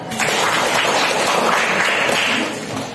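Classroom applause from a group of students, a dense steady patter of clapping that holds evenly for a few seconds before tapering off.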